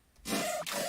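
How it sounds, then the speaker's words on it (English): A spooky dubstep drop bass with vibrato cuts in after a brief quiet moment, a loud buzzy sustained tone that stutters once and resumes, with no talking. "the second drop introduces a new bass that sounds like this"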